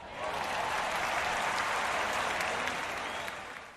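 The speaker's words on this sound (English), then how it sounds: "Applause from the Browns fans." Browns fans cheer with crowd applause in the Action PC Football video game during a 1972 Lions vs Browns matchup, a moderately faint, steady wash of clapping that swells in and fades out over a few seconds.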